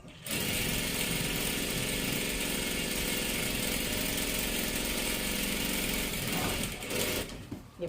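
A sewing machine stitches along the edge of salwar fabric, running in one continuous, even whirr for about seven seconds before stopping, close and clear with no talking.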